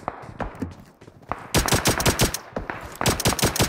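Rapid shotgun blasts ring out in the BGMI battle royale game, with loud, sharp reports fired in quick bursts, some overlapping into dense volleys, while a quieter stretch early on carries faint distant shots.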